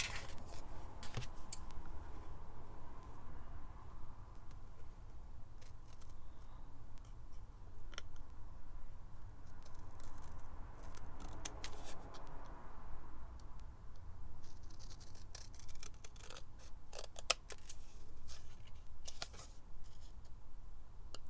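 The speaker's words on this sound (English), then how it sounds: "cut this out roughly, and then I will fussy cut it a little bit more carefully." Scissors snip through paper in a craft tutorial, a steady run of soft crisp cuts close by with a few sharper clicks, no talking over it.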